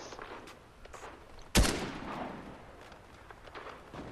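One sharp gunshot in the video game Fortnite stands out loudly over a quiet, scattered background of faint ticks and small clicks. Another crack begins right at the end.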